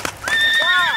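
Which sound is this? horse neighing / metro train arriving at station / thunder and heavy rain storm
horse neighing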